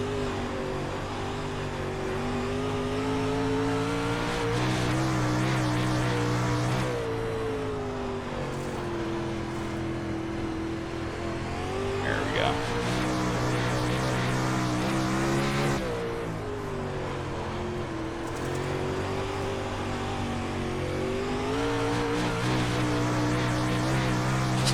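Several 360 sprint cars race around the Port Royal Speedway dirt oval in the iRacing sim, their engines roaring loud and steady with rising and falling revs as they run through the turns.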